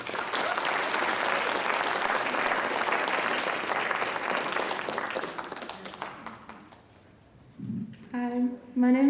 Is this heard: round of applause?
yes